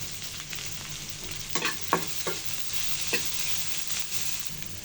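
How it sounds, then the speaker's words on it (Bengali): Onions and green chillies frying in a little oil with a pinch of salt give a steady close sizzle, broken by a few sharp spatula scrapes and clacks against the pan. "পেঁয়াজ কাঁচামরিচটা ভাজার সময় সামান্য লবণ দিয়ে নিয়েছি পেঁয়াজটা সফট হওয়ার জন্য।"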